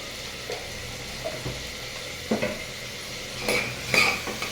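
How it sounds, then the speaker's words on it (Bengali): Turmeric stirred and lightly fried in a pan while a vegetarian lentil dal is cooked, with a soft sizzle under several scraping clinks of a metal utensil against the pan. "এভাবে একটু হালকা ভাজবো।"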